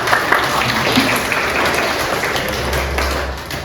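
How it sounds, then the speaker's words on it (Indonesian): Applause from a class or seminar audience, a steady wash of clapping hands that holds evenly at moderate loudness for several seconds with a faint murmur underneath. "Boleh bisa tepuk tangan."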